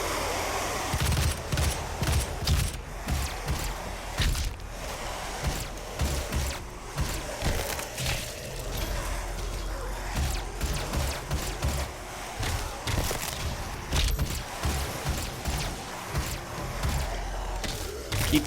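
Dense gunfire from Doom 4, rapid shots and thuds running continuously and loudly for the whole stretch with no pause.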